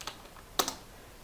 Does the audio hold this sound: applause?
no